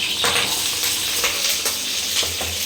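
Chopped capsicum (bell pepper) and green chilli frying in hot oil in a pan give a steady, dense sizzle throughout, with faint stirring scrapes and no talking.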